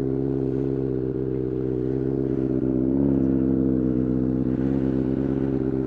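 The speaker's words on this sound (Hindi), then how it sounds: "तो आवाज़ देखो, बाइक की आवाज़ क्या है" A Benelli 600i motorcycle engine runs close and loud with a steady, throaty rumble, the revs lifting slightly around the middle before settling again; no voices.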